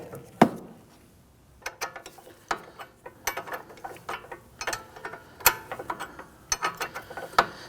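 A hand ratchet loosening a nut on the front strut of a 2001-2009 Volvo S60, a series of close, sharp clicking bursts with short pauses between strokes, with no voices.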